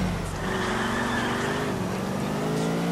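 A car in GTA 4 drives with a continuous loud engine drone that rises and falls slightly, with a faint tire squeal; no speech.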